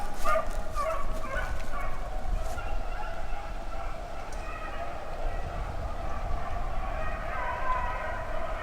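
Rabbit-hunting hounds in Mississippi baying while on a chase, a steady mix of distant barking and howling that runs continuously under the outdoor ambience.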